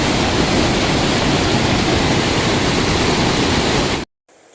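Icy, below-freezing glacial stream on the Bagni glacier trek near Dronagiri, rushing loudly as a steady broadband roar for about four seconds before cutting off abruptly into near silence.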